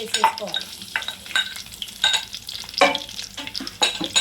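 Cumin seeds and crushed garlic fry in a pan, a close, steady sizzle with repeated scraping stir strokes at a regular pace.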